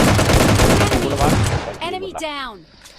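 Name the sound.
gunfire in the video game PUBG Lite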